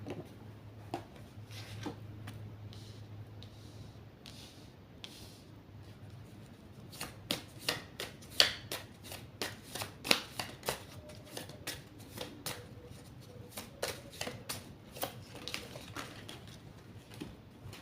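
Playing cards being shuffled and drawn from a deck, quiet at first, then a run of crisp close snaps and flicks, irregular and unaccompanied by speech.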